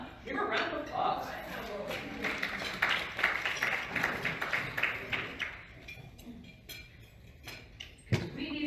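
A short burst of audience clapping greets a volunteer coming onstage at a women's leadership event, dense and lively for several seconds before thinning out, with voices mixed in.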